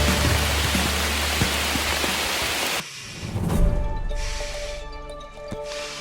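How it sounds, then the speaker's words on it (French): Dense rain falls through the jungle on the slopes of Kerinci volcano in Sumatra, a loud steady hiss for about three seconds that then drops to a quieter patter. "Bon là il pleut."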